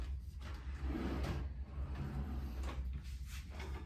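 In a hotel suite, a drawer or cupboard is slid open and shut, giving a few soft scraping rolls and muffled knocks against quiet room tone.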